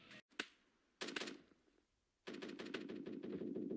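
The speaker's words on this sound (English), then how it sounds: "the cool thing about the M110 is that you can just kind of fire a whole bunch of bullets downrange if you can control the recoil" An M110 designated marksman rifle firing in rapid bursts in the shooter game BRM5: a short pair of shots, a quick burst, then a longer stream of closely spaced cracks, no voices.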